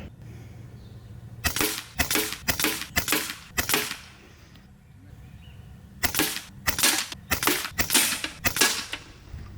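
FX Impact M4 air rifle (Mk4 Sniper, 700mm) fired at a bullseye target in two quick bursts of about seven sharp cracks each, separated by a short pause, crisp and close.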